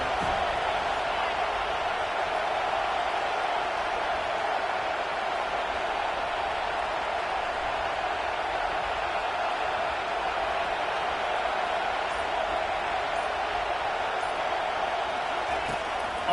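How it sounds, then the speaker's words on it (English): Steady crowd roar at a college football game in College Football 25, a constant dense wash of noise from a large stadium crowd that holds level throughout with no clear peaks. "The roar of the crowd trying to fuel this defense to keep them pinned in their own end."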